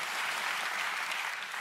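A church congregation claps for God during a sermon, a brief, dense burst of applause that fills the moment evenly.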